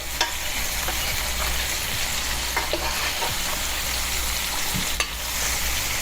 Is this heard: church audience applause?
no